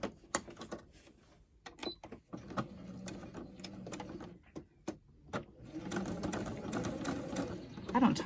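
A sewing machine top stitching a fitted fabric face mask, running in bursts of rapid mechanical chatter separated by pauses, close up, with faint voice-like sound in places.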